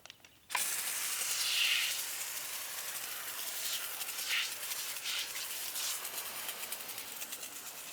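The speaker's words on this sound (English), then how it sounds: "I first started with a pre-wash using Yum Citrus at a 1:5 dilution in the IK sprayer." Yum Citrus pre-wash sprayed from an IK pump sprayer onto car wheels, a sudden steady hiss of mist that starts abruptly and runs on with slight pulses, close and without talk.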